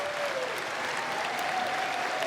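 Golf spectators and players applaud at a PGA Tour event, a broad, even wash of outdoor clapping heard from a distance, softly sustained throughout.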